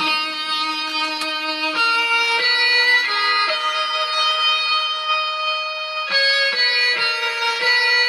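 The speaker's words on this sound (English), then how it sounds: "First the guitar." Sustained melodic guitar notes ring out with rich harmonics, a steady instrumental line changing pitch every second or so, loud and continuous with no voices.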